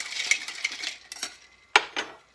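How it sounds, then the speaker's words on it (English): A bar spoon stirs a cocktail in a mixing glass, with light clinks and taps of metal against glass and ice, irregular and close, in a quiet room. "Now, this is a stirred drink, so you don't want to bruise the spirits too much."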